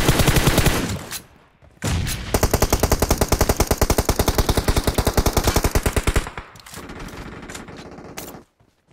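Gunfire in the mobile battle royale game BGMI: long, loud bursts of rapid automatic shots in a steady rhythm, with a brief pause early on and scattered single shots at the end.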